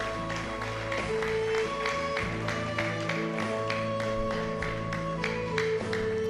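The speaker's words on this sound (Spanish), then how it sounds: "Denle un fuerte aplauso al Señor en esta noche" A church congregation claps in a steady rhythm, the sharp repeated claps ringing out over sustained keyboard or organ chords.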